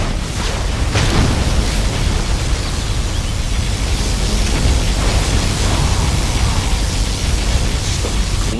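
A particle cannon strike in C&C Generals Zero Hour erupts into a loud, sustained roar of broadband rumble and crackle that lasts several seconds without letting up, with no speech over it.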